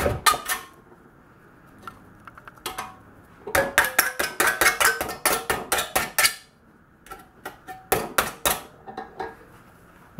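A 1 mm thick CPM 3V fixed-blade paring knife stabs repeatedly into a thin metal can, giving sharp metallic clanks and clinks in rapid irregular bursts, close and loud, with short pauses between flurries.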